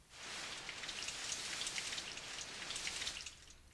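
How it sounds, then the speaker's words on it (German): Heavy rain pours down in a dense, steady hiss with scattered brighter drop impacts, fairly quiet and alone throughout, swelling in and lingering for nearly four seconds. "Es regnet in Strömen."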